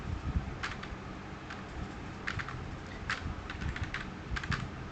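Keys clatter on a computer keyboard during word-processor data entry: irregular clusters of quick, light taps with short gaps between them, close and fairly quiet against a faint room hum.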